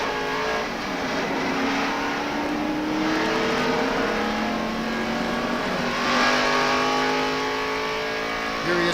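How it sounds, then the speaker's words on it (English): A NASCAR stock car at the 1993 Daytona 500 accelerates out of the pits and comes back up to speed, its engine droning loudly and steadily with rising pitch sweeps as it gathers pace. "Here he is coming up to speed, running around the flat part of the racetrack, getting it back up to speed."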